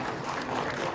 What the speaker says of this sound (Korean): 다 같이 박수로 축하해 주시면 좋겠습니다.